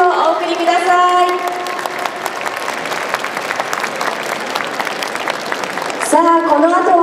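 Applause for Sendai Suzume Odori sparrow dancers at the Furusato Festival Tokyo, a dense, steady clapping crowd that fills the whole stretch, with festival music fading out at the start and returning near the end.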